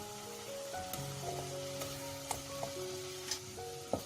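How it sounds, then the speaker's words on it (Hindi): Chicken cubes frying in a pan with soy sauce, chilli sauce and hot sauce, a steady soft sizzle with occasional faint clicks of stirring, no talking. "अब इसमें ऐड कर दूंगी मैं चिकन क्यूब।"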